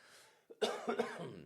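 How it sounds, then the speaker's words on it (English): A single short cough rings out close by, a couple of rough bursts following a faint breath. "how rude, coughing on me."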